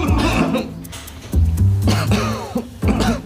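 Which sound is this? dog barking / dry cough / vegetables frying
dry cough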